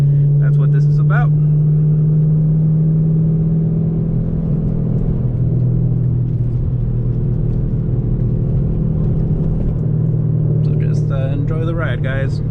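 A 5th Gen Camaro SS cruises behind another car, its exhaust a loud, steady low drone heard from inside the cabin, with slight swells in revs. Someone talks briefly near the start and again near the end.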